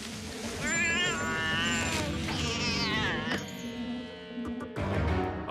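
A cartoon cat stuck up a tree lets out a loud, drawn-out wavering meow that rises and falls in pitch, with background music and sound effects behind it.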